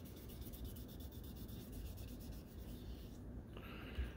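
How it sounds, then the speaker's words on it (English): Wet sanding of a 2K clear coat by hand with sandpaper, a soft steady rubbing that runs continuously and quietly throughout, close by, with no talking. "give everything a nice, even sand"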